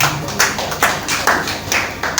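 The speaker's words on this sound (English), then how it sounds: "Let's clap for Jesus." A church congregation at a Victory Hour service claps together in a steady run of sharp, fairly loud hand claps, roughly five or six bursts with no talking over them.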